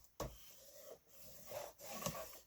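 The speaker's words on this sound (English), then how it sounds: "go ahead and fold and burnish that 1/2 inch score line" A tool rubbed firmly along a folded 1/2 inch paper score line, giving faint dry scraping strokes in short repeated passes with brief pauses, close by and quiet.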